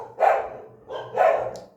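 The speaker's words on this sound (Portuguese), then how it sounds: "O cachorro da rua que fica na minha calçada, ele chama Pintado." A street dog that stays on the sidewalk outside a house barks twice, loud and close, with a short pause between the two barks.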